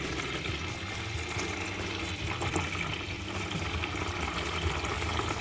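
Steady rushing and splashing of water pouring and draining continuously from a 1964 Ford Falcon Futura engine, close by, with a dense, unbroken hiss throughout.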